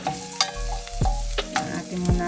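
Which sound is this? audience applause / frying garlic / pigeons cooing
frying garlic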